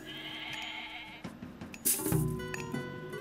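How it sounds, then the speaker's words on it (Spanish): A goat bleats in Age of Mythology amid faint game ambience, a couple of short bleats standing out over soft background music and effects. "Otra cabra por aquí."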